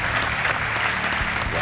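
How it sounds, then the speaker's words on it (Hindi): Studio audience applause on the Hindi quiz show Kaun Banega Crorepati welcoming a contestant to the hot seat, a dense, loud wash of clapping filling the whole moment without pause. "तालियों के साथ आपका स्वागत है।"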